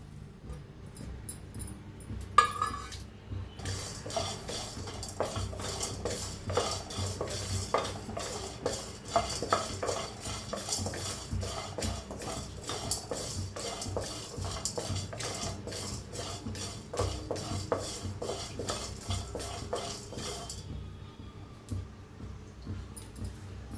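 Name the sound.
dry roasting garlic and coriander spices in a pan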